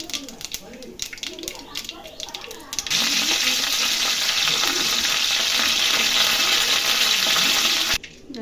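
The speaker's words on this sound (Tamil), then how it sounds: "எண்ணெய் சூடானா கடுகு போட்டுக்கலாம்." After a moment of quiet kitchen noise, a loud, steady sizzle erupts as mustard seeds hit hot oil, crackling continuously until it briefly cuts out near the end.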